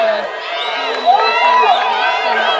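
A crowd cheers and whoops at a girls' field hockey grand final in Christchurch, a steady roar of voices in the stands mixed with a commentator talking over it.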